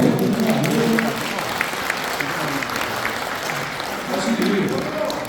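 A lecture audience at a civic humanities talk breaks into sustained, dense applause, clapping steadily throughout at a moderate distance while a voice speaks over it.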